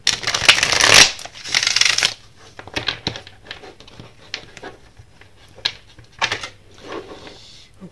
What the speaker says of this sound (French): On bat un peu les cartes